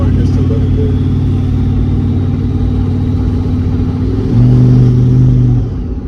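A turbocharged Chevy Tahoe on a base tune drones with a deep, steady engine note from inside the cab, then surges louder and heavier for about a second before easing back.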